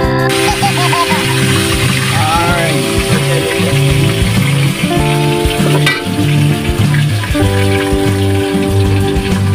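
Bighead fish head frying in hot oil for sinigang sa miso, a loud, steady sizzle and crackle throughout, with pan clatter and a faint voice or two underneath.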